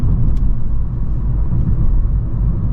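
A 2021 Acura ILX Premium driving up a ramp, steady low road rumble and engine drone heard from inside the cabin, continuous and fairly loud with no talk.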